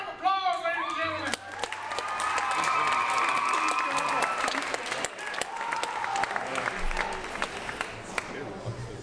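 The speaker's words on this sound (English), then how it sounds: "Give them a round of applause, ladies and gentlemen." An audience applauds and cheers for a band at a live show, loud dense clapping with shouts and whistles that swells and holds for several seconds after a brief stretch of amplified voice at the start.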